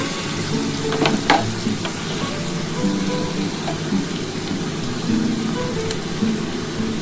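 Potatoes sizzle and fry steadily in a pan, a continuous crackling hiss with occasional stirring clatter, fairly loud and close.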